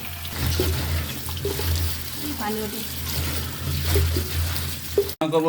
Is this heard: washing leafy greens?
yes